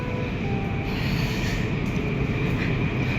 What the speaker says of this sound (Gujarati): સામે મેટ્રો આવી રહી છે